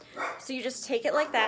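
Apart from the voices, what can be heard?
dogs barking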